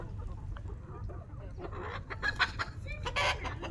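A bearded rooster gives several short clucks, then breaks into a louder crowing call near the end, close by with a farmyard murmur behind it.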